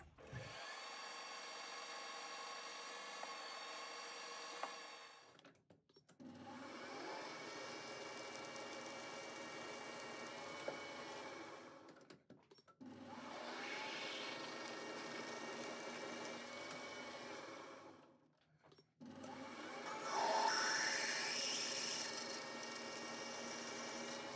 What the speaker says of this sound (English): Drill in there about a 1/2 inch or a little more with an 1/8 inch.